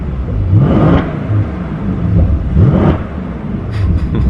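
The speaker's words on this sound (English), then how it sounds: "Let's give it some gas for the first time." A 2018 Mercedes-AMG E63S with the AMG sports exhaust revs hard twice, each throttle blip rising in a loud, close rumbling roar before settling back to a deep idle.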